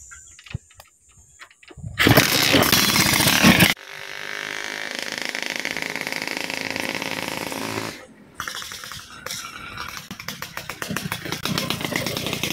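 Two-stroke Suzuki X4 motorcycle with a freshly tuned 28mm carburetor, engine revving loudly up close in bursts, then running steadily and crackling at a lower, uneven idle.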